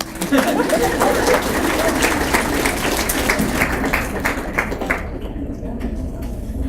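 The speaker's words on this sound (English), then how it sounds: "You can clap now." A seated audience at a leadership program talk claps after a video about an 800-meter runner. The dense, lively applause runs for about five seconds, then thins and fades as it dies down.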